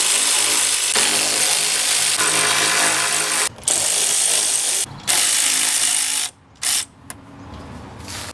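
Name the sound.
electric ratchet removing bolts on Eclipse intake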